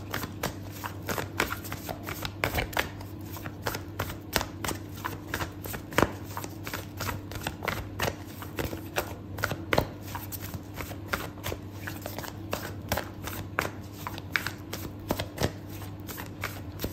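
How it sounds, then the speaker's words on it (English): Oracle cards being shuffled by hand, a long run of quick, crisp riffling flutters and slaps, close and steady throughout with no talking. "I'm going to pull out an oracle card for you"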